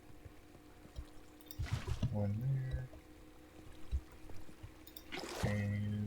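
Water poured from buckets in the video game Minecraft, two short splashing pours a few seconds apart, the second one ending in a sustained flow, heard under someone talking over faint background game music.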